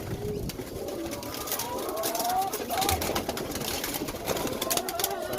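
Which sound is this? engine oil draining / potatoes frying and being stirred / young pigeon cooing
young pigeon cooing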